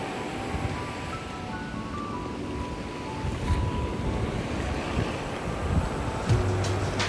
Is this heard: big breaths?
no